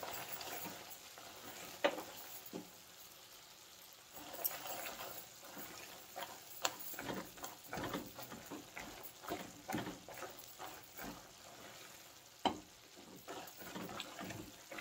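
Makhana (fox nuts) roasting and being stirred in melted jaggery in a pan, with soft continuous sizzling and scattered scraping stir strokes and clicks throughout, fairly quiet and without talk.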